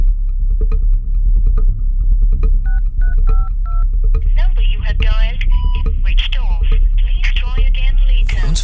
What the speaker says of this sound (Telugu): నేను కాల్ చేస్తా.